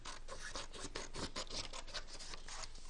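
Scissors cutting through paper in quick, repeated snips, close and crisp with a steady rhythm of short rasping strokes and no talking.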